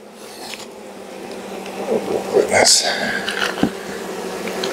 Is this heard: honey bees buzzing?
yes